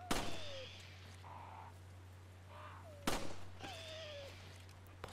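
Sharp gunshot bangs from the video game Resident Evil 4 HD, a few spaced cracks with whistling, sliding electronic tones between them, moderately quiet.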